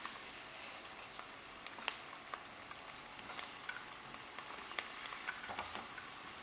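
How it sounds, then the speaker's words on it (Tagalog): Garlic sautéing in a pan for a vegetable kare-kare, a steady soft sizzle with scattered small pops and crackles, fairly quiet and continuous without any voices. "Tayo magigisa."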